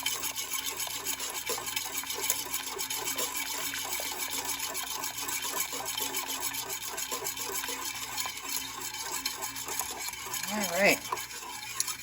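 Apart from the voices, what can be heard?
stirring German chocolate pie filling in a pot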